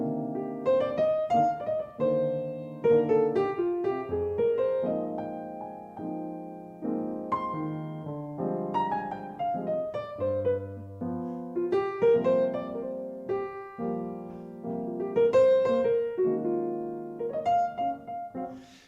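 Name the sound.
jazz playing of a tune without blues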